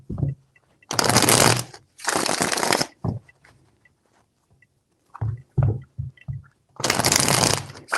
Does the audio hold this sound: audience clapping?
no